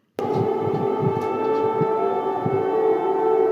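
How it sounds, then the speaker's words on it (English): A loud, steady air raid siren wails continuously in Kyiv during a Russian drone attack, its sustained tone holding level throughout with a low rumble beneath. "An air raid siren blares amid a Russian drone attack on the Ukrainian capital."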